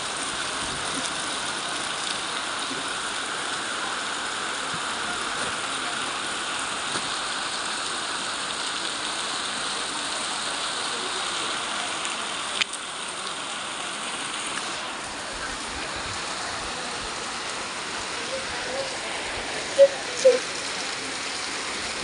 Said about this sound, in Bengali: প্রচুর পরিমাণে বৃষ্টি হচ্ছে প্রচুর পরিমাণে